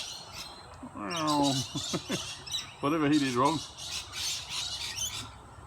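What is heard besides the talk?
mutton birds squawking while chasing a parrot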